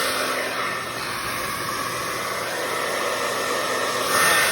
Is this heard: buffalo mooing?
no